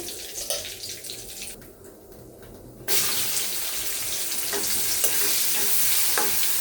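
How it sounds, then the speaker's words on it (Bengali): Faint kitchen noise, then a loud sudden hiss as whole garam masala and bay leaves hit hot oil, settling into a steady crackling sizzle with occasional stirring. "আমি এখন এই তেলের মধ্যে দিয়ে দিলাম গরম মশলা, তেজপাতা"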